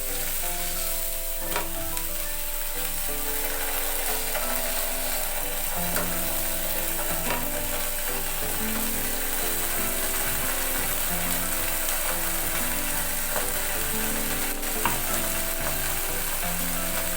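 A keto burger patty fries in a pan on a low gas flame, giving a steady loud sizzle with scraping clicks of the spatula as the patty is turned.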